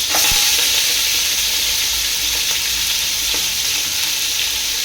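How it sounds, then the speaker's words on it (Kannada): Mutton roasting in about 200 ml of oil with poppy seeds for a Mandya-style mutton sambar, giving a steady, close, loud sizzle and hiss throughout with no talking. "ಮಟನ್ ಉರಿಸ್ಕೊತಾ ಇದ್ದಾರೆ."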